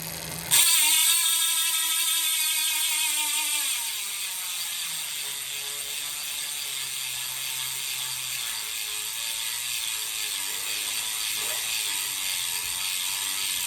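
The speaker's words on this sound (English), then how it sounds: "Here comes the free body sound test right now." A Roval CLX 50 rear hub on a Specialized Aethos Pro road bike coasts with its 54-tooth ratchet freehub, giving a loud, fast, continuous buzzing click that starts abruptly and then settles into a steady, slightly softer whir.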